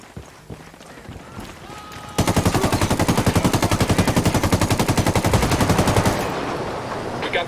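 Sustained automatic gunfire in the video game Ghost Recon Wildlands, a loud rapid burst running for about four seconds, preceded by scattered quieter shots and faint voices.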